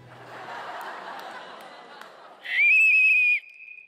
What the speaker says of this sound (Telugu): క్వశ్చన్ చూశారు విజిల్ ఆయన వేశారు ఫస్ట్